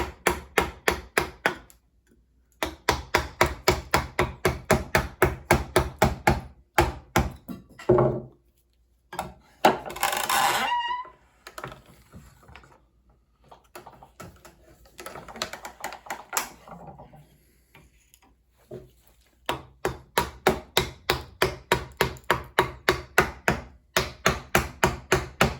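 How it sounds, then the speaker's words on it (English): A mallet drives a chisel into wood to carve a wooden spatula. Rapid runs of sharp, close knocks are broken by a few pauses with scraping and rustling between the bursts. "just lower the chisel, make it parallel to the grain, it'll cut less"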